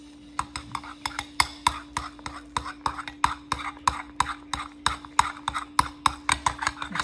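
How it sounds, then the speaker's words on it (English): A spoon briskly mixes shaving cream in a bowl, making a steady run of sharp clinks against the bowl's sides at a quick, even rhythm, close and alone without talk. "So now I'm gonna mix."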